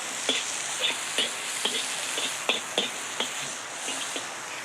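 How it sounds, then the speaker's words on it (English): Pork and vegetables sizzle in a wok in a steady hiss, broken by regular soft clicks and taps as the food is stirred, with no voices. "Between the sizzle of the wok and the sound of the rain on the roof, it's quite a noisy job."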